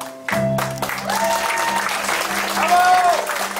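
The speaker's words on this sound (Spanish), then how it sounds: "Aplauso fuerte, por favor." A crowd at a quinceañera celebration in Salt Lake City, Utah, claps for the birthday girl's family, loud sustained applause starting abruptly and filling the room, with cheers and an announcer's voice over it.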